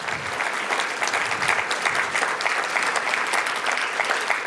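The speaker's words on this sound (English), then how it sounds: "Please give them a round of applause." Steady audience applause at a maternal health kickoff event, dense even clapping from a roomful of people, fairly loud and sustained throughout, with no voices on top.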